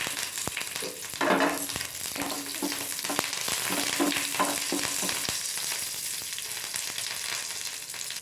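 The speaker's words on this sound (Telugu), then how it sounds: "ఇందులో ఒక స్పూన్ ఆయిల్ వేసుకొని సిమ్లో పెట్టుకొని కరివేపాకు వేపుకోవాలి" Curry leaves fry in a spoonful of oil over low heat, a steady close sizzle with crackles and scraping stirs, no voices.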